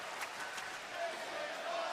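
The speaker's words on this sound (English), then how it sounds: "You hear the great crowd here in Boston showing their respect." A large wrestling crowd in Boston roars steadily at a TNA match between AJ Styles and Kurt Angle, a broad wash of cheering heard from the arena floor.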